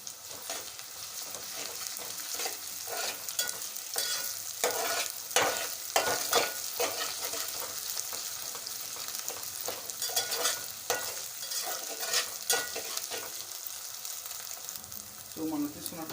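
Onions and ginger frying in a pan for fish curry, a continuous sizzle with frequent spoon-stirring scrapes and clinks, close and fairly even throughout.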